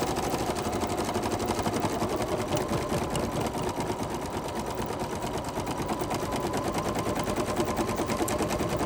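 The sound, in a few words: embroidery sewing machine stitching out a design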